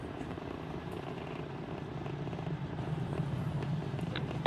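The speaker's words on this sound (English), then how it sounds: "flying crew on board Dragon and Falcon 9 to new heights" A SpaceX Falcon 9 rocket carrying a Dragon capsule climbing during the Polaris Dawn launch, a distant low rumbling roar that holds steady and swells slightly toward the end.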